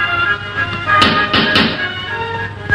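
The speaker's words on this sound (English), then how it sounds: "there's somebody at the door." Knocking at a door in a 1954 classic film, a few firm raps with a pause between them, heard alone over a quiet room background.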